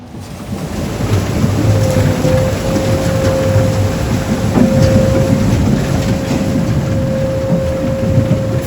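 A beet harvester runs loud and steady, its conveyor belt unloading beets into a trailer. A broad continuous mechanical roar carries a faint steady whine throughout, and no one speaks.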